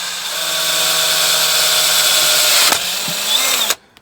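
A power drill bores out a broken bolt on an LS tractor. The close, loud whine runs steadily for several seconds, shifts pitch briefly as the bit bottoms out, then stops abruptly.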